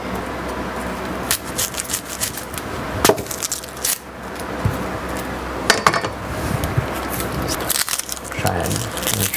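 A kitchen knife slicing half an onion bulb on a cutting board, with sharp chopping taps and light scraping at irregular intervals under continuous talking.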